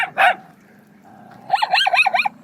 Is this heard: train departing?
no